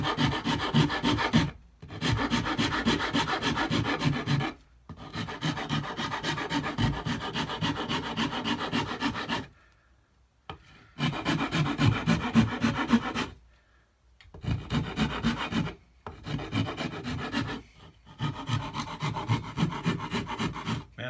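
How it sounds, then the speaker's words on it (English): Wood rasp filing the neck of a DelaCaster-style cigar box guitar near the headstock, giving steady, close scraping strokes in long bursts broken by brief pauses, with no talk. "this rasp makes short order out of these necks"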